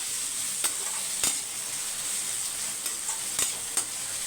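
Brinjal (eggplant) sautés quietly in a pan with a soft, steady sizzle, broken by a few sharp clicks and scrapes of stirring spread across the moment.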